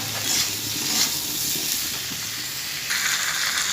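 Potatoes sauté and get stirred in oil that darkened from frying pointed gourd, a continuous close sizzle and hiss with faint scraping from stirring.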